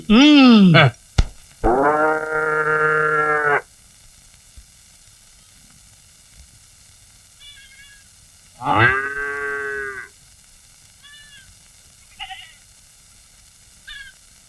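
A cow moos in a Malayalam comedy film scene: a short call, then a loud, long drawn-out moo, a pause, and a second moo. Faint, brief sounds follow in the quieter stretch.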